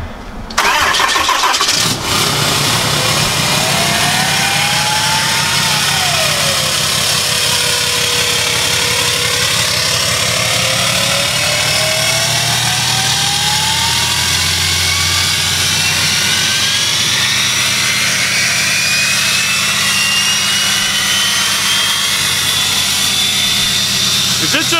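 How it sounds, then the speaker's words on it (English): A Cummins diesel truck cold-starts on a roughly 30-degree morning, a loud whirring crank catching into a roaring engine whose turbo-like whine sweeps upward, then a steady heavy idle continuing close by for over twenty seconds. "We probably need ourselves a little 2023 cold start"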